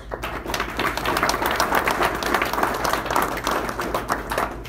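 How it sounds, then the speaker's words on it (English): Steady applause from an audience at a closed-door political gathering in Vestal, a dense, even patter of many hands clapping that fills the whole stretch without a break. "Let's give Andrew Hollister another round of applause."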